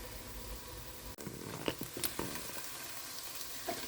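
Onions frying in an uncovered pan over medium flame, giving a soft, steady sizzle with a few light clinks and taps near the middle.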